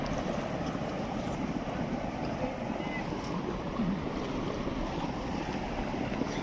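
Water rushes steadily at the head of Seven Sisters Falls in Cherrapunji's Eco Park, a dense, continuous roar with some wind buffeting, unbroken and fairly close throughout.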